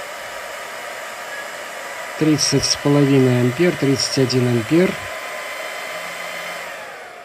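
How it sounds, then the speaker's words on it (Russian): Cooling fans of a server power supply running under heavy load give off a steady, close whooshing hiss throughout, while someone speaks briefly over it in the middle. "Отсюда всасывается вентиляторами."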